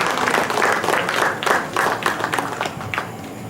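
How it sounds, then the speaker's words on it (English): Audience applause at a cultural event during a medical diabetes conference: steady, dense clapping from a seated crowd, fairly close and moderately loud, with a few brighter bursts. A faint voice may be mixed in. "Beautiful cultural event, and a big applause for him."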